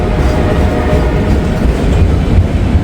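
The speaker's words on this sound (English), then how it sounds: "I'm not sure whether this is a transfer train or whether this is something else." A transfer train rolls past close by on a chilly day, with a steady loud rumble and rattle of rail cars that stays constant throughout.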